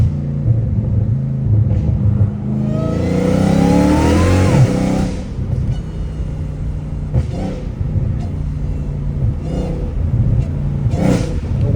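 A Dodge Hellcat Redeye with straight-piped exhaust rumbles and revs hard close by, one loud rising rev swelling and falling away, followed by a deep idle with short blips, echoing as if in an enclosed space.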